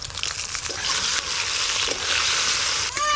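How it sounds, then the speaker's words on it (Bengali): Eggplant pieces fry in hot mustard oil over a village clay stove, a steady dense sizzle and crackle holding at close range throughout, with no voices. "আমাদের সর্ষের তেল গরম হয়ে গেছে, বেগুনগুলো ভেজে নেব।"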